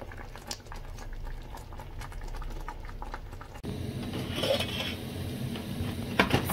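Water bubbles at a rolling boil in a pot, ready for cassava-sorghum flour, with a steady close churning and occasional clinks of pot and utensil, and no talking.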